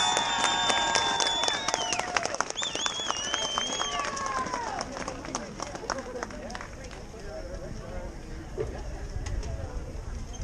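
A crowd at a World Child Day celebration in Prince Edward Island applauds steadily, a broad wash of clapping with cheers and excited voices over it that gradually thins out.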